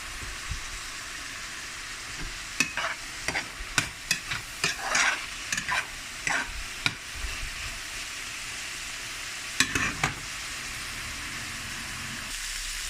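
Ground beef sizzles in a hot pan for a beef sandwich, a steady frying hiss broken by a series of scraping stirs from a utensil, close and clear with no talking.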